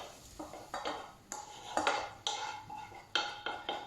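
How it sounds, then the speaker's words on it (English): Cooked potatoes and vegetables tipped into a pan of egg and milk mixture for a Spanish omelette, a run of close clattering, scraping knocks of food and utensil against the pan, several sharp bursts in quick succession. "we're going to tip our cooked vegetables into the pan with our"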